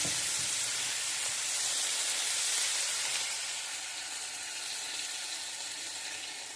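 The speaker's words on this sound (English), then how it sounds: "Turn the stove down to low and just kind of let that simmer" Pad Thai sauce simmers in a pan on a stovetop with a broad, steady sizzling hiss close by, swelling slightly midway and easing off toward the end, with no voices.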